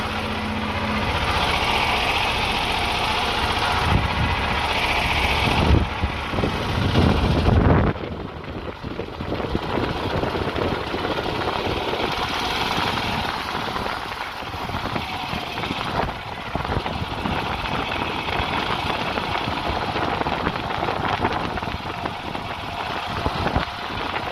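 A vehicle engine runs steadily during a test drive, a loud continuous drone that shifts slightly in tone partway through and carries on alone without speech.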